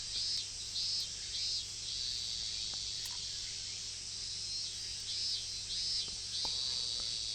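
A chorus of cicadas in the video game Higurashi, with shrill pulsing bursts rising and falling in a regular rhythm over a constant low hum and a few faint clicks.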